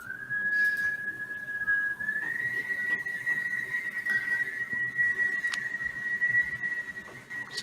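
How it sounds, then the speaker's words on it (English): A steady, sustained whistle holds one wavering pitch for several seconds, drifting slightly higher midway, with faint background noise and a few soft knocks. "someone's whistling back there"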